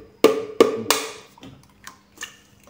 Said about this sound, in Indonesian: Pertama-tama kita pecahkan telurnya dulu ya bosku.